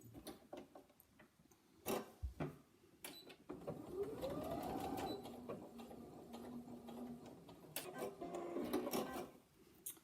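A sewing machine stitching fabric for a fabric pot, with bursts of rapid mechanical running and a rising motor whine between clicks and handling noises, close and moderately loud.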